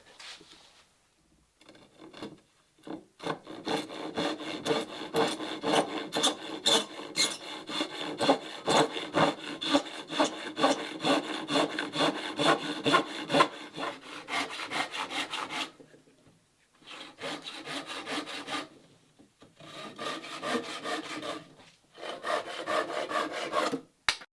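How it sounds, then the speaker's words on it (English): A hand saw makes end cuts through wooden boat-building stock, with steady rhythmic back-and-forth strokes that break into short pauses between bursts of sawing, close and clear with no talking. "I think we'll just cut them by hand if I can find my saw."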